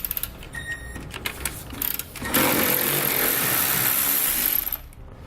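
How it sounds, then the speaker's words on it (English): A 15mm socket on a ratchet or power tool works loose the nut holding the bumper structure to the frame of a 2019 Ram ProMaster during a trailer hitch install, with a few short bursts followed by a steady whirring run of about two seconds. "Grab a 15mm socket and we can pull that nut out."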